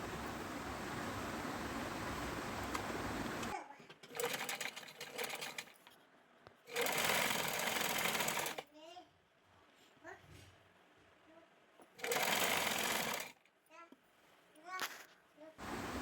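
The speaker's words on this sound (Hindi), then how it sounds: "अब हम साइड में जो साइड की सिलाई है पैर की वो लगाएंगे" A sewing machine stitches the side seam of open-style palazzo pants in three loud, close bursts of rapid whirring, with a person talking between runs.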